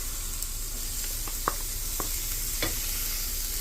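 Beef tipped back into a hot pan for Thai basil fried rice, sizzling steadily with a few sharp scrapes and clacks of stirring, no voices.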